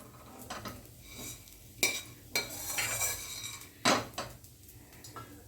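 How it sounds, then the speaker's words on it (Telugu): Edible gum (gond) fries in ghee in a pan and a spoon stirs it, producing a soft sizzle broken by several sharp scraping clinks of metal against the pan. "ఇప్పుడు ఫస్ట్ ఒక 2 స్పూన్స్ గోంద వేస్తున్నానండి."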